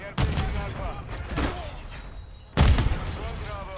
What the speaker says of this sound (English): And the grenade goes so fucking strong.